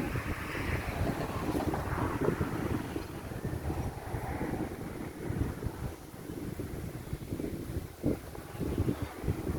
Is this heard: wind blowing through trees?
yes